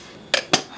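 Dry coffee beans rattling as they roast in a small Daiso hand pan, two quick sharp shaking bursts about a fifth of a second apart, close and crisp, with no voices.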